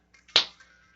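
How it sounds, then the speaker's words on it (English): A single sharp hand clap, close and dry, standing alone against near silence with a brief decaying tail. "That was me clapping."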